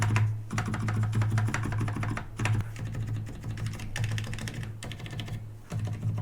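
Steady rapid typing on a silent red-switch mechanical keyboard with clacking keystrokes and occasional heavier thunks from lubricated stabilized longer keys, close and continuous over a low steady hum.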